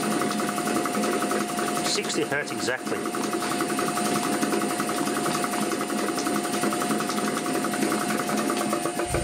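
An old air compressor driven by a variable frequency drive runs continuously with a dense, loud mechanical drone and steady hum, while someone speaks briefly over it.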